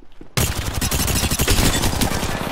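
Rapid automatic gunfire erupts suddenly in a video game, a dense, loud stream of closely spaced shots rattling on without pause after a brief quiet opening.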